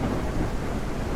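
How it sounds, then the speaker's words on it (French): A thunderstorm rumbles in the survival video game SurrounDead, a steady, dense wash of thunder and heavy rain with no other sounds on top. "je voulais juste vous montrer qu'il y a une tempête de zinzin"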